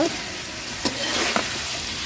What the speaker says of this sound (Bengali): আলুগুলা দিয়ে আরেকটু কষায় নিব